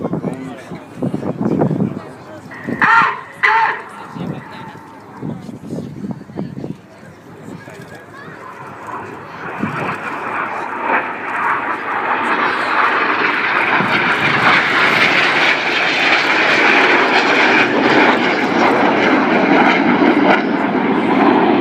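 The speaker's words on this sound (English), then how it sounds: "Looking left and right again for the synchro pair, who descend back down to 100 feet to fly the double rolls." RAF Red Arrows BAE Hawk jets flying a low aerobatic display at the RAF Cosford Airshow, a jet roar that builds from a distance into a loud, broad, sustained rush, following a commentator's speech over the PA and crowd noise.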